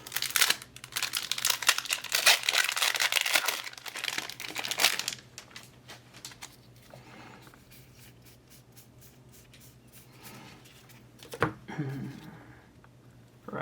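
A Magic: The Gathering Commander Legends booster pack from a draft box is torn open: loud, close foil crinkling and crumpling for about five seconds, then quieter card handling with a sharp rustle near the end, no talk.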